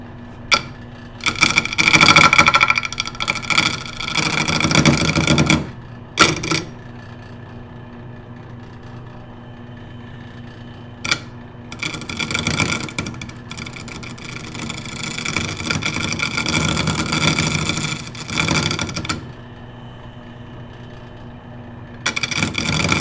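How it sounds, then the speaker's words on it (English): A roughing gouge cuts a Baltic birch plywood bowl spinning on a wood lathe, with loud broadband scraping and tearing bursts separated by pauses and a steady motor hum beneath. "I'm just gonna start with my roughing gouge to try to take off some of this extra meat here."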